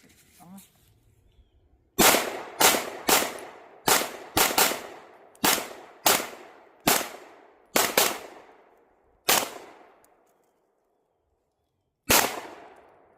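A Flux Raider 9mm pistol-caliber carbine fires about a dozen sharp, loud single shots in quick, uneven succession, each with a short decaying echo, then a longer pause before one final shot.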